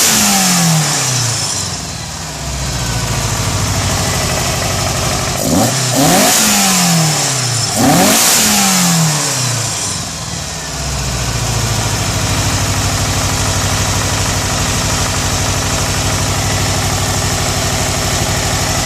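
A VW Golf MK2 engine with tuned, balanced Weber sidedraft carburettors, loud and close, settling from a rev into idle, then blipped sharply twice with fast rising and falling revs before dropping back to a steady, lumpy idle.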